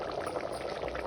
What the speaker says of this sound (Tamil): தண்ணி கொஞ்சம் போட்டு கொதிக்க விடுறேன்